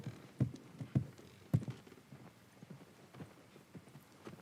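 Horse hooves clip-clopping in The Last of Us, a few distinct close steps early on, then softer, irregular hoof falls over quiet ambient game sound.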